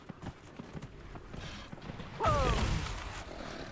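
Hooves of a horse clip-clopping in the fantasy video game Dragon Age Inquisition, a steady quiet patter of steps growing louder near the end under faint game sounds.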